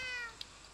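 A kitten in Minecraft gives a single short, soft meow, faint and alone.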